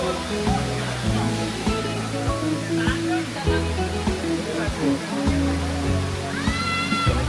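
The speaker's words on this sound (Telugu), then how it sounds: "మా వాటర్ ఫాల్స్ ఏ లెవెల్లో పడుతున్నాయి ఇక్కడ నుంచి" A waterfall in the Kodachadri hills of Karnataka rushes with a steady, dense roar, with voices talking over it throughout.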